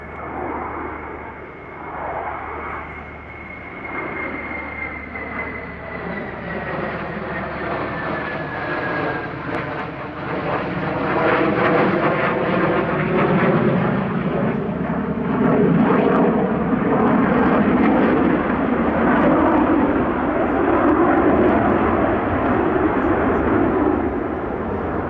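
A Qantas airliner flies past at an air show, its engine roar building from a distant whine into a loud, sustained rumble with shifting tones as it passes overhead, lingering before slowly fading.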